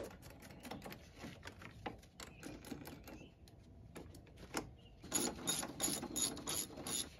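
Ratchet wrench turning the battery anchor bolt nut on a Trailblazer or Envoy, with a faint steady run of small clicks close by, followed by a louder burst of ratcheting near the end.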